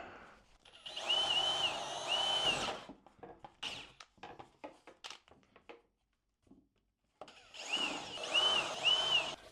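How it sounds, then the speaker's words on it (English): A power drill fitted with a big bit bores holes in thin, floppy hardboard, whining in two long bursts separated by a stretch of short knocks and handling noise, then a brief silence. "First I'm going to drill some holes so that it's easy to get the blade of the jigsaw in."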